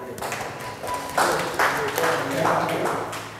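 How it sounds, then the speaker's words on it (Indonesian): An audience at a talk on organic fertilizer and soil health breaks into several short bursts of applause, heard over and between a speaker's steady voice. "Tepuk tangan Bapak Ibu"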